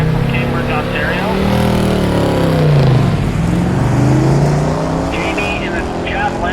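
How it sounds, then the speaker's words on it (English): An AMC Javelin and a BMW X5 drag race down a dragway strip, engines roaring loud and close with a sweeping pitch change as the cars pass, under continuous commentary. "Javelin takes it out the front, but I think the X5 is going to catch up here."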